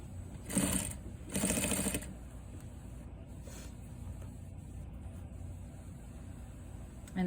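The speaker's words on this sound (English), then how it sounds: "we're gonna stitch right on the edge." A sewing machine stitches bias binding along the edge of a cuff in two short whirring runs near the start, then the motor goes quiet apart from faint handling noise and a brief tap at the end.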